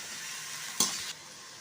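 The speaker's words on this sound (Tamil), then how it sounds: "நல்லா இப்போ இதை ஒரு தடவை கலந்து விட்டுக்கலாம்" Broad beans frying with onion and turmeric in a pan, a soft sizzle with a sudden clatter of stirring that lasts a fraction of a second, then quieter frying.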